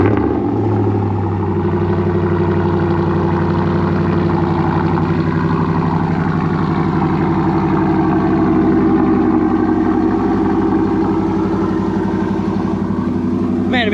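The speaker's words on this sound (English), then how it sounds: "I just love the way this truck starts up" A pickup truck engine idles after a cold start with a steady, deep rumble, loud and close, holding an even rhythm throughout with no other sounds.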